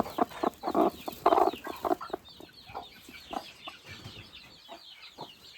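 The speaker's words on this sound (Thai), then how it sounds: "อันนี้เป็นเป็นแม่สาวไก่ใหม่นะครับ ไม่เคยคลอดลูกมาก่อน" A hen clucks repeatedly in a chicken nursery pen, a first-time mother hen with newly hatched chicks, the calls close and fairly loud in bursts early on, then softer, scattered clucks follow.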